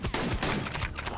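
Rapid gunfire in the mobile game Slashy Camp, a dense burst of overlapping shots that runs the whole time, loud and close, with no talking over it.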